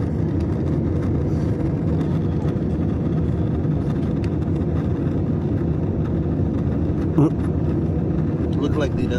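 Steady broadband roar of an airliner cabin in flight over Salt Lake City, a constant engine and airflow rumble filling the whole stretch, with a brief louder bump near the end and faint voices beneath.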